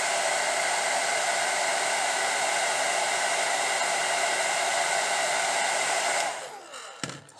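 Hair dryer blowing steady air into a synthetic Belle Tress Allegro wig, a loud continuous whoosh that holds for about six seconds before cutting off, followed by a faint click and rustle.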